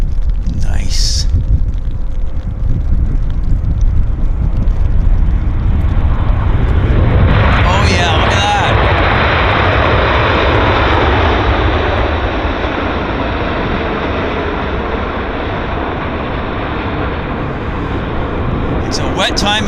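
An airliner lands on a wet runway at YVR airport with a loud, sustained engine roar and rushing spray that slowly eases off, with brief voices at the start.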